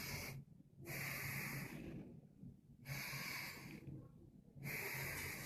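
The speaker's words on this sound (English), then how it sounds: "So normal breathing would be" A man demonstrating normal relaxed breathing, with three slow audible breath cycles, each a long airy inhale and exhale, separated by distinct silent pauses, close and clear.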